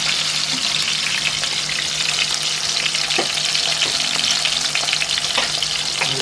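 Salt fish frying in a hot pan, a steady loud sizzle with occasional stirring clicks and scrapes, close and continuous throughout with no talking.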